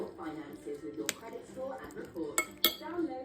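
Cutlery scraping and clinking on a plate during a meal of spicy mango salad, a few sharp clinks standing out while a person talks over the eating sounds.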